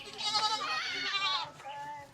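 Goats bleating close by, a long wavering cry and a shorter one, loud and clear over a quiet outdoor background.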